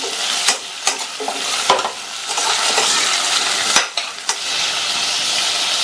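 Drumsticks cut into pieces sautéing with salt and onions in a pan for a Tamil-style drumstick masala: continuous close sizzling with frequent stirring scrapes and light clinks of a spoon against the pan, no talking.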